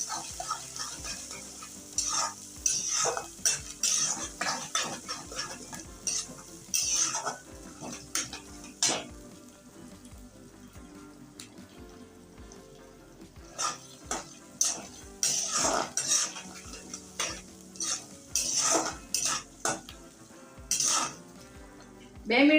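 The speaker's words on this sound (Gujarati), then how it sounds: "ડુંગળીને બે મિનિટ માટે આપણે આ રીતના સાતળી લઈશું" Onions sautéing in a pan for batata poha, with steady frying sizzle and repeated stirring scrapes and clinks of a spoon against the pan, fairly close and without talk.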